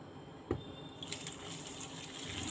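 A liter of water poured over a spoonful of powdered milk while making homemade juice: a soft, steady splashing pour that swells after a brief knock, faint and with no talk.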